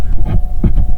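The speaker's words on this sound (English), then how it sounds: "There's a lot of cars driving around." A low, rumbling wash of traffic passes outside, with a couple of swells as vehicles go by, steady and muffled.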